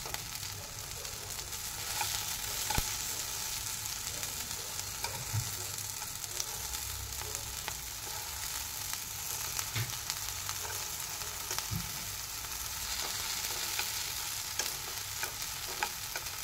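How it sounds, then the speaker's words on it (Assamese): Tomatoes fry in a pan with a steady, close sizzle while being turned over, a few soft scrapes and clinks of stirring rising above the constant crackle; no one speaks. "এতিয়া অকণমান এইখিনি উল্টাই দিছোঁ।"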